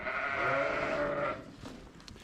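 Sheep bleat on a farm, a sustained, fairly loud call from a ewe nearby lasting over a second, followed by quieter shuffling and farmyard movement.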